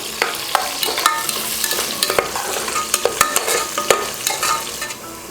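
Small onions, green chillies and curry leaves sauté in hot oil with mustard seeds for vegetable rice, giving a continuous sizzle broken by repeated scraping stirs of a spoon in the pan, close and fairly loud, with no talking.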